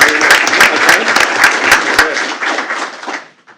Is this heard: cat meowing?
no